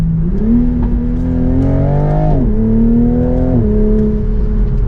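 A 2024 Toyota Supra 45th Anniversary Edition with stock exhaust accelerates hard, its engine note rising loud and close through a gear change, then settling into a steady pull.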